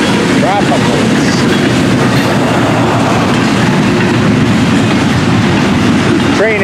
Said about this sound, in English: Train is at reduced speed.